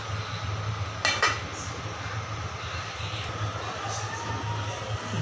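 A lid clinks twice onto a pot of lemongrass water set to boil, two quick metallic taps close by over a steady low hum of background noise.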